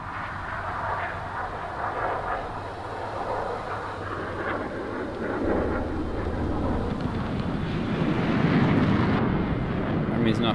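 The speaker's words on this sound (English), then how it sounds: "That's a lot of planes." Many aircraft droning overhead in War Thunder, a dense rumbling engine roar that swells louder toward the end, with a voice talking over it.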